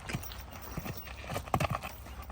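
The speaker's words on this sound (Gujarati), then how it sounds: "હા ઘોડો" Horse hooves clip-clop in quick irregular beats close by, moderately loud, with faint background noise.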